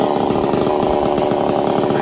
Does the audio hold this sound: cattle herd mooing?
no